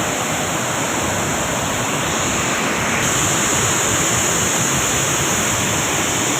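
Gundichaghagi waterfall in the rainy season sends up a loud, unbroken roar of rushing water that stays even and dense throughout, with no voices.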